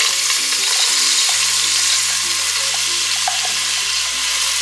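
A medium onion, finely diced, fries in a splash of oil with a steady, dense sizzle that holds close and loud throughout, with a low hum and a few soft clinks from stirring underneath.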